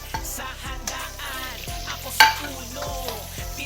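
Garlic, ginger and onion sauté for braised beef, a moderate sizzle with occasional stirring scrapes and one sharp clatter, set under steady background music.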